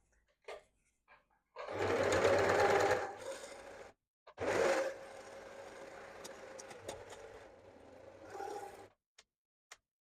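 A sewing machine stitches puffed sleeves on a Lafayette sew-along garment in two close, steady runs, a longer burst and then a second stretch, with short pauses and small handling clicks between.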